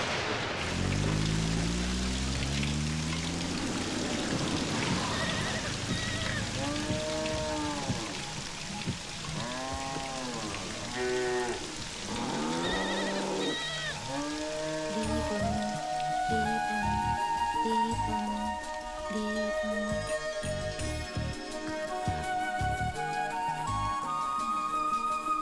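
Rain falls steadily for the whole stretch, a continuous patter of drops with bubbling, dripping plinks on a surface, with no voices.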